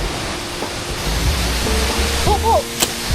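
A large waterfall on the Dabajian Mountain trail in Taiwan, with a pool below, roars as a steady, loud broadband rush. A few brief whistling tones rise above it near the end.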